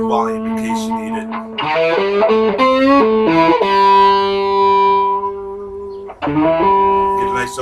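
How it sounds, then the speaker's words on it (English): An overdriven electric guitar through a Fender Princeton amp plays a short run of sustained notes and chords with a gritty, distorted edge, loud and close, ringing out before a final strum. "Get a nice overdrive out of it with the volume cranked and the distortion down"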